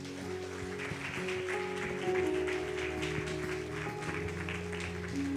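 A church congregation applauds during an evening service, a steady wash of clapping over sustained keyboard chords and a soft voice.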